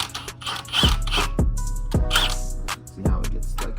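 Ratchet wrench tightening a bolt during a transmission swap on a Lexus IS300 with an AR5 gearbox, a series of quick clicking ratchet strokes in bursts with mechanical clatter, close and fairly loud.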